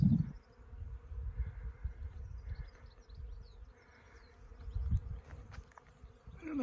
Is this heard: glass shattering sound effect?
no